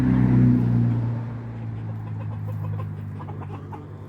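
A low, steady rumble fills a barnyard while soft, faint chicken clucks break through now and then in the background.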